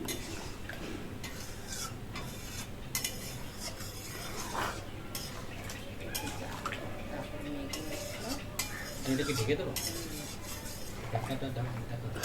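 Soybean curry with onion and spices is stirred in a pot, a spoon scraping and clinking against the metal in uneven strokes, with someone talking over it throughout.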